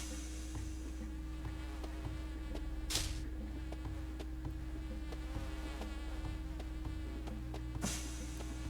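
Buzzing bees in the Goosebumps Dead of Night video game, a steady insect drone running the whole time over a low looping game soundtrack, with two brief louder bursts.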